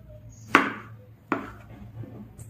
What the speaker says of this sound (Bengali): আমি এভাবে সবগুলো টমেটো কেটে নিব।